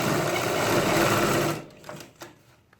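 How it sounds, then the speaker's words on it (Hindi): A sewing machine runs steadily for about a second and a half, stitching elastic onto a pajama waistband, then stops, leaving a few faint clicks and handling noises. "सबसे पहले हम ऐसे सिलाई मारते हैं लास्टिक पे"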